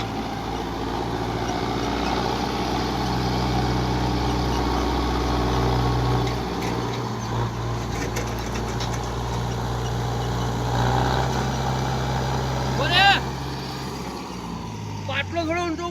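A tractor with water mixed into its oil idles with a steady low rumble throughout, joined by faint metallic clatter and brief bright clinks near the end.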